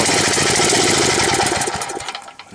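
A Kawasaki FA-210A small engine idles while running far too rich, giving a loud, steady, rough putter with uneven knocking pulses that drops away near the end.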